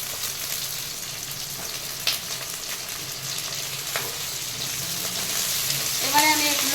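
Onions and capsicum frying for dry chilli chicken, a steady close sizzle with occasional stirring clinks and scrapes in the pan, the crackle rising slightly toward the end.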